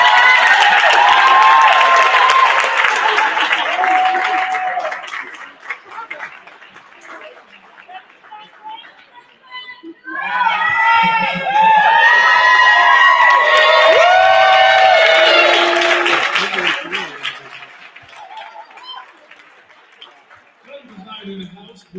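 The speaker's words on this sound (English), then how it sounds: "they give this much applause to the lighting designers" A theatre awards gala audience bursts into loud applause and cheering, fades under a speaking voice, then swells into a second big wave of clapping and whoops before dying back down as talk continues.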